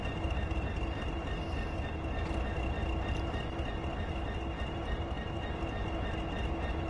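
A long freight train of 21 wagons hauled by 3 locomotives rumbles past steadily in the Train Sim World 5 game, a dense continuous roll of wheel noise at an even level with no speech.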